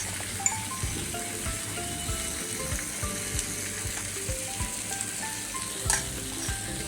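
Ghee sizzles steadily on roasting sweet potato pieces over a low flame, a continuous close crackle with occasional small clicks and taps of a utensil, no talking.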